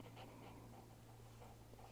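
Dog panting steadily and close, a continuous rhythmic breathing under a low background hum, with no talk.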